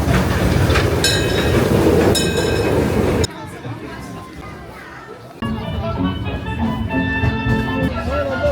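Family park train ride at Disneyland Paris rumbling along with a steady clatter of cars, while a loud recorded safety announcement plays and children's voices carry in the background.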